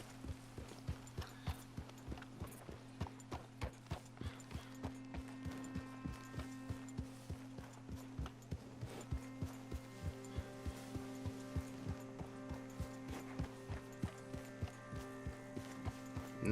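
Horse hooves pound in a steady galloping rhythm as a rider travels in a video game, the repeated clip-clop beats running continuously over a faint backdrop.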